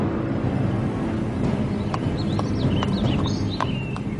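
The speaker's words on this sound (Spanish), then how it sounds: "los caballos que antes patrullaban Times Square y paseaban turistas por Central Park han abandonado la ciudad" Horse hooves clip-clopping on city pavement in New York, several sharp hoof strikes in an uneven walking rhythm over a steady rumbling background.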